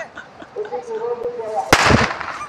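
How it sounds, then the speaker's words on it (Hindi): A loud firecracker bursts as children set it off outdoors in a village on Eid day, a single sharp blast with a brief rumbling tail, preceded by voices and crowd noise. "यहाँ पे कुछ बच्चे ये फोड़ रहे हैं पटाखे।"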